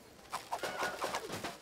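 Short cooing calls from a pigeon in the video game Alba: A Wildlife Adventure, a few soft throaty coos close by in steady succession.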